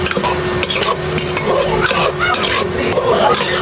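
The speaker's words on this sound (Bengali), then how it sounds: "এবার চালটা দিয়ে আস্তে আস্তে করে ভেজে নেব," Rice fries in a pan for pulao while a spoon scrapes and stirs it steadily. The close sizzle and rough scraping run throughout, with light clinks of utensil on the pan.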